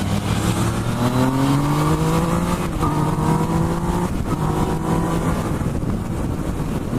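A 2017 Yamaha FZ-09 (MT-09) motorcycle accelerates hard. Its engine note climbs steadily in pitch, with a couple of brief dips at gear changes, and stays loud and close throughout with no talking.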